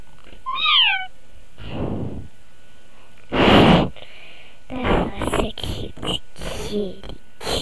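A cat meows in Roblox Animal Simulator, a short rising-and-falling electronic call near the start, followed by bursts of voice and game noises. A person talks throughout.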